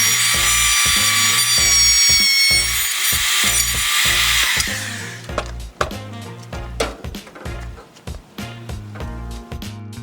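Router cutting slots in pressure-treated 2x4s, a loud high whining motor for several seconds, then repeated rhythmic bursts and knocks as the bit bites into the wood.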